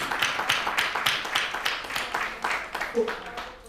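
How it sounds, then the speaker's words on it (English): A church congregation applauds its pastor in rhythmic unison, sharp claps landing about four to a second, fairly loud and close, with a voice briefly heard near the end. "Let's give him a round of applause, everyone"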